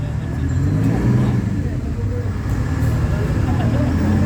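An old US Air Force truck rolls past in an Australia Day car parade at Hastings, giving a steady, close, low engine rumble that holds throughout the clip.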